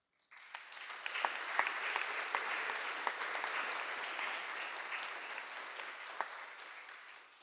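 A church congregation applauds the choir, a dense burst of clapping that rises quickly from silence and holds steady for several seconds before easing slightly near the end.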